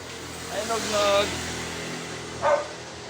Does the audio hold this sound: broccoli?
no